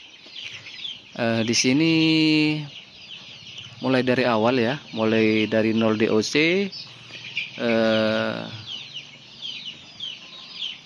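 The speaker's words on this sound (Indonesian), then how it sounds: "untuk ayam broiler ataupun ayam potong pedaging ya." Loud, close clucking and squawking from a group of broiler chickens in bursts, with a person speaking between the calls.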